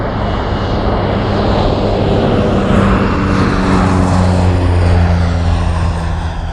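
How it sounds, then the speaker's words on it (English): A crop-dusting propeller airplane seeding rice fields in California drones loudly and steadily, passing close overhead with a shifting, rising-and-falling roar. "You may hear the airplane behind me as it's coming in."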